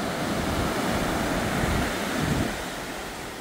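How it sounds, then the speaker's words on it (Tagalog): Strong ocean waves of the Pacific at Lianga, Surigao del Sur, a steady loud rush of surf with wind noise across the microphone, easing slightly toward the end. "So medyo malakas-lakas yung alon"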